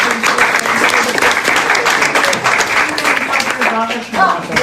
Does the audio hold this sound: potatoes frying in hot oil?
no